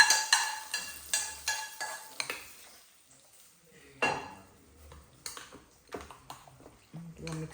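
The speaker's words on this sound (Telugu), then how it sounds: "చక్కగా మిక్స్ చేసేసుకుంటున్నాను." A spoon stirs and scrapes food around a pan tempered with a little oil and dried red chillies, giving a run of quick, close clinking strokes that thin into scattered scrapes and taps, with faint sizzling underneath.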